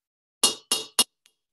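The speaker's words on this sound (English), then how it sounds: "I'm going to go through with my hammer and I'm going to find the dents." Three sharp, ringing hammer strikes land on a metal vessel to take out its dents, evenly spaced and loud, each with a brief metallic decay, followed by a faint tap.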